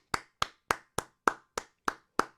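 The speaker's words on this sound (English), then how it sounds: "Clap it up" Eight evenly spaced single claps ring out one at a time in a slow, steady rhythm, close and crisp with short decays, as one person claps along.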